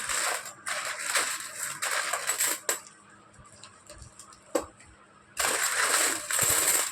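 Indian one-rupee copper-nickel coins from 1983 to 1991, Bombay mint, jingle and clatter in close, loud bursts of handling, with quieter pauses between pours and no voices.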